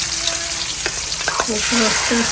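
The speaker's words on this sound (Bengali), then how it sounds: "এই পাঁচটা মাছ কোনোরকম বেছে ফ্রাই করতেছি" Five fish fry in a pan with a loud, continuous hiss and crackle, joined by a few faint tonal chirps in the background.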